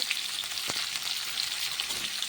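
Spices frying in a pan for a light fish curry with pointed gourd and drumsticks, giving a dense, even sizzle with one brief scrape of stirring, close and unbroken, with no voices.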